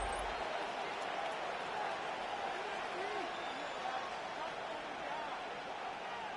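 Football stadium crowd cheering steadily during a preseason game as third down approaches, a dense continuous roar filling the space, with distant whistles and voices rising out of it.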